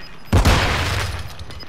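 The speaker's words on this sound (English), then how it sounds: "Throwing flash grenade." A flash grenade going off in the multiplayer game Call of Duty: a sudden sharp bang with a low thump, then a hissing ringing decay lasting over a second.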